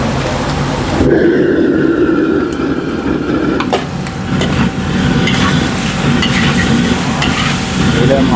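Continuous sizzling as beef stir-fries in a hot pan with Chinese liquor, with scraping and stirring sounds from a spatula throughout, close and fairly loud.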